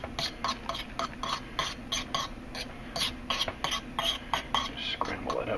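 A metal utensil scrapes and taps rapidly against a cast iron pan while scrambling eggs, a brisk series of close scratchy clinks and scrapes in an irregular rhythm, with faint breathy voice sounds underneath.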